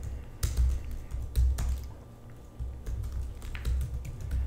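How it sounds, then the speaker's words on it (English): Keys clatter on a computer keyboard in short, uneven bursts of close taps with brief pauses, entering a placeholder product title for an Amazon listing, with no voices. "I'm just going to type in an example."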